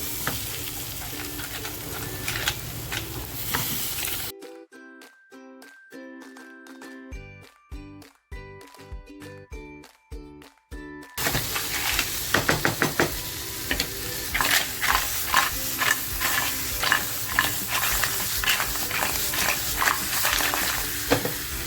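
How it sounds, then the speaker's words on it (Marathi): Cleaned crabs go into sizzling masala and are stirred, with loud frying and scraping in busy bursts and a quieter stretch of clinks midway, for a Maharashtrian crab masala. "ह्या स्वच्छ करून घेतलेल्या चिंबोऱ्या आहेत त्याच्यामध्ये टाकते"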